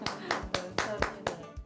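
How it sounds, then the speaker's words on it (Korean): Sharp, evenly spaced hand claps, about six of them in a quick steady rhythm, close by and alone, from a small group in a Korean medicine clinic in Busan. "박수 한번 칩시다."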